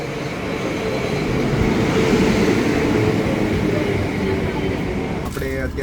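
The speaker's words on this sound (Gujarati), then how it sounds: "હમણાં છે ને આવશે થોડી વારની અંદર ટ્રેન, આ જે છે લંડન વોટરલુવાળી ટ્રેન" A London Waterloo line National Rail train pulls in at the station with a loud, steady rumbling roar that fills the scene, and a voice speaks briefly near the end.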